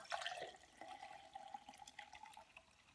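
Liquid pours in a steady stream with drips and small splashes, fairly close and moderately loud, with no voices.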